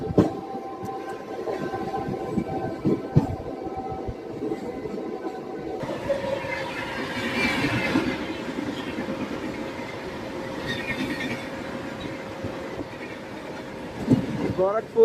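A MEMU electric passenger train runs along the rails at speed, giving a steady rumble with rhythmic clacks over the joints, a sustained tonal whine, and occasional sharper clatter, heard from inside the moving train.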